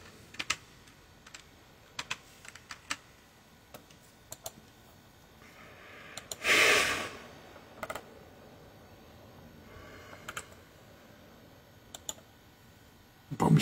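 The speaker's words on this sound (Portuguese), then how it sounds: "Deixa eu digitar aqui." Typing on a computer keyboard in a quiet room: scattered, sparse keystroke clicks spread throughout, faint to moderate, with one louder rustling burst in the middle and no talking.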